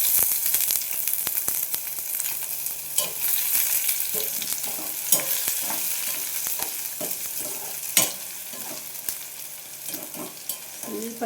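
Onions sizzle steadily in hot oil for a sprouts palya, with the spoon scraping and stirring the pan at irregular intervals; the frying stays close and continuous, and no one speaks.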